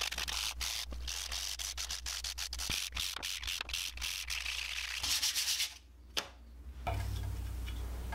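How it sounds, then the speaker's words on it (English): Steady close rasping of sandpaper rubbing back and forth on wood for a hanging mobile, rhythmic strokes that stop briefly near the end, then a faint hum. "And now comes the sanding."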